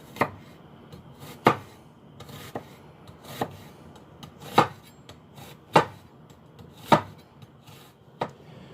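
A knife chops onion on a cutting board in sharp, well-spaced thuds, about seven distinct strikes at a roughly steady pace, close and clear over a quiet background.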